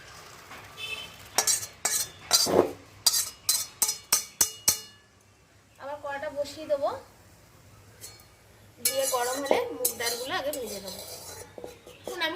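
Boiled banana flower is strained in a home kitchen, with a series of sharp metal clinks and scrapes of utensils against a pot, pauses, and a voice speaking between the clatter.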